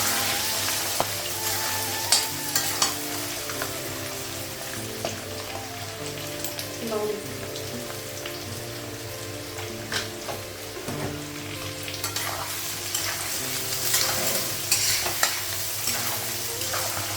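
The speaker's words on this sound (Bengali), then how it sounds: "আলুটাও একটু ভেজে দিই" Potatoes frying in a pan in a home Bengali kitchen, a steady crackling sizzle with scattered pops and occasional scraping stirs, close and continuous without talk.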